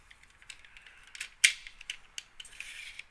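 A plastic bolt sled inside a Retaliator/Recon MK II toy blaster, fitted with a plunger brace reinforcement, is pushed back through its full travel. It gives close, scattered clicks and scrapes, one sharp snap partway through, then a brief rough sliding rasp.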